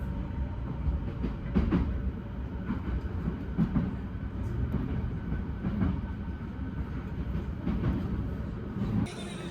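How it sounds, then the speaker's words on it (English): A train runs at a Japanese station with a steady rumbling roar and rhythmic rail clacks, loud and close, continuing throughout without voices. "That's the train station. The train's there."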